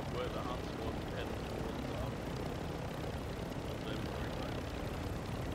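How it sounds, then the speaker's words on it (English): Helicopter in the video game DMZ, a steady broadband rotor and engine roar that stays loud and constant throughout. "Where'd your chopper go, Whitey?"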